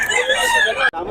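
Young gamecock stag rooster at a bird market, a loud close crow-like squawk filling about a second, cut off abruptly near the end, with voices mixed in.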